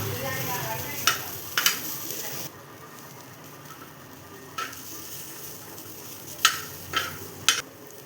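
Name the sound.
onion frying in a pan while stirring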